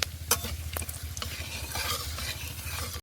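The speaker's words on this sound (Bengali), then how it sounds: "তুলে নেওয়ার পর ওই তেলের মধ্যে দেবো শুকনো লঙ্কা আর গোটা গরম মশলা" Dried red chillies and whole garam masala sizzle in hot oil, a close crackling fry punctuated by several sharp scraping stirs of a utensil against the pan, with no one speaking.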